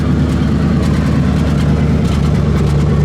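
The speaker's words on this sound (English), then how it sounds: "As we leave it sit here and run, the engine runs nice and smooth." A 1964 Buick Wildcat convertible's engine idling steadily and smoothly, a loud, continuous low rumble close by with no voices.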